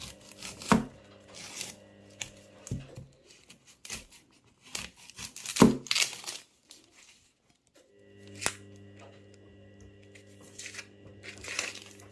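Chili peppers being washed and then cut for laing, a taro-leaf dish, with scattered close knife chops, crisp crunches and rustling in a quiet kitchen, without speech.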